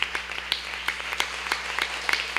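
A church congregation claps hands in praise, with scattered, uneven claps ringing out in a room over a faint steady hum.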